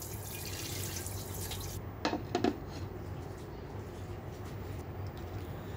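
A frying pan just used to cook hilsa fish is rinsed under a running tap at a sink, with a soft steady water rush and a brief cluster of splashes and clinks, fairly quiet.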